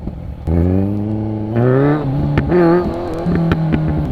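A Kawasaki Z1000 motorcycle engine revs on the throttle, its tone climbing in loud, close surges with brief dips between pulls.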